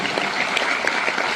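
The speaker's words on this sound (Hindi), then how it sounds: "आप अपने लिए जोरदार ताली बजाइए।" A short, dense burst of audience applause from an event for Indian Railways goods shed workers. The clapping is loud and sustained with no speech over it.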